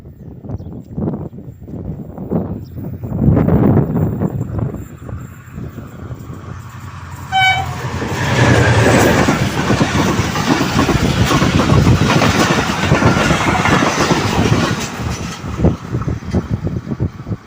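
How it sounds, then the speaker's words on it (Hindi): A train pulling slowly into Gharo railway station in Sindh, a loud close rumble building up, with a horn blast and a long steady roar of rolling wagons that carries on to the end. "ट्रेन आ गई"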